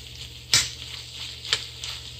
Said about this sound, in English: I am stirring it in one addition at a time so that I don't have a mess